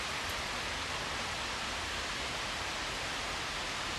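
Albion Falls, a waterfall in Hamilton, gives a steady broadband rushing roar of falling water, constant and even across the whole stretch with no voices.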